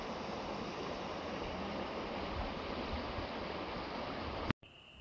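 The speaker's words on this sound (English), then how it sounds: "I found more of the stream at the bottom." A small woodland stream near Williamsport, Pennsylvania flows with a steady, broad rushing wash of water, continuous and fairly close, ending in a sudden cut.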